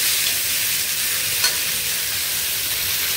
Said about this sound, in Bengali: আলু আর ফুলকপি একটু তেলে ভেজে নিচ্ছি।